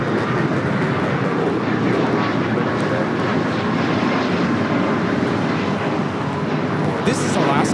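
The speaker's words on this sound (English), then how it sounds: "1317 taking off to Seattle on the MAX 8" An Alaska Airlines Boeing 737 MAX 8 jet takes off at Los Angeles International Airport, a loud, steady engine roar filling the whole stretch, with a voice talking underneath it.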